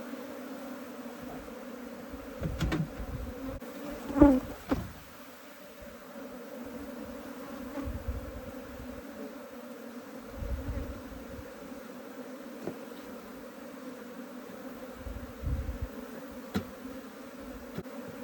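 Africanized honey bees buzz steadily around wooden hive boxes in an apiary, a continuous droning hum with a few louder passes close by and soft handling noises.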